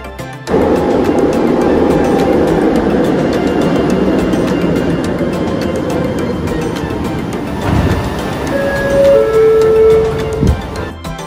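Train interior on the way to KLCC station in Kuala Lumpur, a loud steady rumble and rattle from the cars, with brief electronic chime tones near the end.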